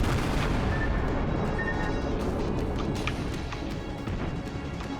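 Destroyer gunfire in the naval game World of Warships: a dense, loud barrage of booming shots and crashes rolling on continuously, with sharper cracks scattered through the later part.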